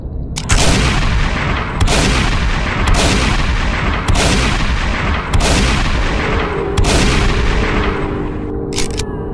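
Gunfire in the zombie shooter game Vanish Rain: six loud, sharp shots at roughly even intervals of about a second and a half, each with a booming tail, followed by a fainter pair of quick shots at the end.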